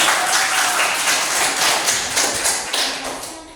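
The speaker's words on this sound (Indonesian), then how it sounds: "Terima kasih tepuk tangan" A classroom audience claps after a group presentation, a dense wash of many hands clapping at once, steady and fairly loud, tapering slightly toward the end with no talk over it.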